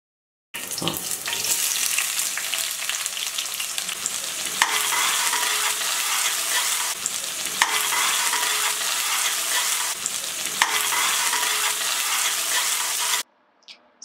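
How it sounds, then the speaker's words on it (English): Onions fry in hot oil with a steady, dense sizzle and crackle, loud and close, lasting almost the whole time before cutting off abruptly near the end. "So now we had been frying the onions in hot oil."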